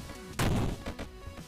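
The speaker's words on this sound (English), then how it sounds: "Oh, he's got a shotgun." A single heavy shotgun blast in the video game Karlson, a loud booming impact followed by a brief rumbling decay and a couple of softer thuds.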